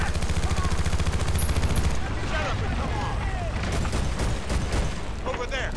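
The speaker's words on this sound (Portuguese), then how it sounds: "Mais explosões." Dense, continuous gunfire in Battlefield: Bad Company 2 with bursts of rapid shots and rumbling explosions, loud and busy throughout, with a voice briefly audible under the noise.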